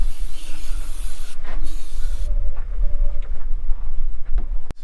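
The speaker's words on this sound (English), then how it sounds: "We always spray down the electrical connections here with some electrical contact cleaner." Electrical contact cleaner is sprayed onto the electrical connections of a combine bean head, giving a loud, close hiss that runs for about two seconds, followed by faint clicks and handling noises.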